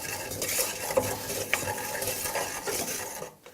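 Spices toasting in oil for tikka masala, stirred in a pan with a steady low sizzle, occasional metallic clinks of utensil against the pan, fading out at the end.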